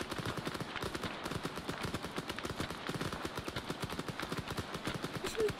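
Rapid, dense gunfire from the Arma 3 military video game, a steady stream of automatic and single shots cracking continuously throughout at moderate loudness with no talk over it.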